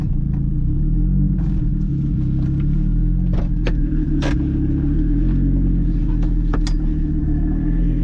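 An Audi at a one-mile top-speed run topping 300 km/h: a loud, steady low engine rumble and road roar fill the whole stretch, with occasional faint clicks and knocks on top and no talking.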